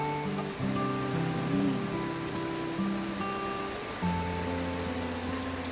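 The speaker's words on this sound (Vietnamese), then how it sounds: "Ngoài trời đang mưa." Rain falls outside a rural Vietnamese home in a soft, continuous patter, with a steady tonal hum running beneath it and no talking.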